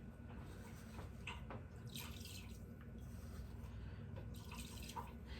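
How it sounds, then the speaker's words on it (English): Salted water running from a kitchen tap into a small cooking pan, a quiet continuous trickle with soft splashy drips swelling now and then. "I just fill up my little pan like that."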